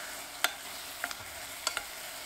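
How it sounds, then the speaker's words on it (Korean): Sauce seasoning simmering down in a pan while being stirred: a soft continuous sizzle with a few brief spoon scrapes against the pan, close and fairly quiet. "이제 자글자글 졸여주면 됩니다."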